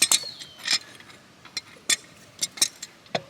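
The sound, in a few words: tightening taped PVC fitting on pool filter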